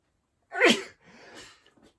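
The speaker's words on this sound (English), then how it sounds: "I'm going to sneeze." A single sharp, close sneeze, with a quieter breathy exhale trailing after it, in a quiet room.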